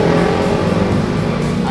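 A fuel-injected motorcycle engine revs loudly and close up with a steady, throaty roar that holds for the whole moment, without speech.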